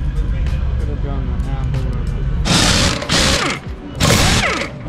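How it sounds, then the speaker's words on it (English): Wrench loosening the axle pinch bolt on a Harley-Davidson Road Glide, rapid ratchet clicks under close talking, with bursts of louder rasping toward the end. "Loosen the pinch bolt, then that."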